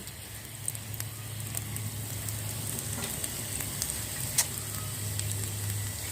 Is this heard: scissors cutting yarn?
no